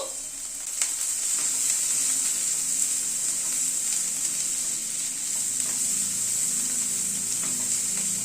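Chickpeas frying in a pan with about half a spoon of salt, stirred steadily; a constant close sizzle runs throughout with occasional light scrapes of the spoon.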